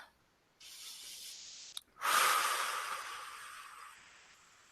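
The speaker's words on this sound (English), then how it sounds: "So take some deep breaths." Long, steady breaths drawn in and let out slowly and close, one soft hiss after another with a brief pause between, no talking.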